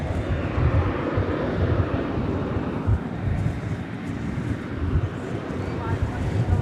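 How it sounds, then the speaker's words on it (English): An American Airlines jet departs DFW Airport at night, a broad low engine roar rumbling steadily at a distance, with wind buffeting the microphone. "That plane there is headed to Kansas City. It's American Flight 2267."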